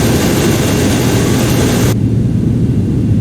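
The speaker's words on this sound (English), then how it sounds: "hear just how loud some of these engines are" Loud jet aircraft engines roar in the AirportSim video game, a dense, broadband blast that cuts abruptly at about two seconds to a much duller, muffled rumble as if heard through ear defenders.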